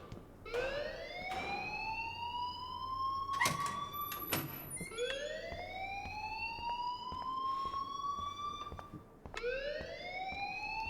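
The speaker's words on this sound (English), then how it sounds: "please turn off that alarm since that's your job" A fire alarm in the video game Life is Strange wails in repeated rising sweeps, loud and steady, with a sharp electronic burst between cycles and no talking.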